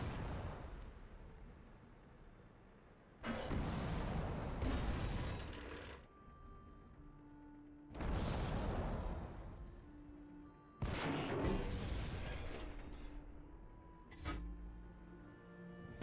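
SPG artillery fires in the tank game World of Tanks, three heavy booming shots spread apart with long rumbling tails and a shorter burst near the end, loud against a low game hum.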